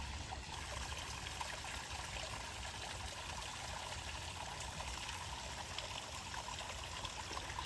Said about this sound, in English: the way the water ripples is like flowing towards me